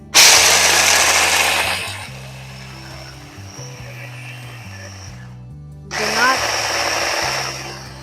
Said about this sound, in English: we're going to grind these up.